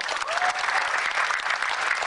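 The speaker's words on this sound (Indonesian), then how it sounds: "tepuk tangan yang meriah" An audience applauds a dangdut singer at an entertainment show, with continuous close clapping from a crowd holding steady for the whole stretch.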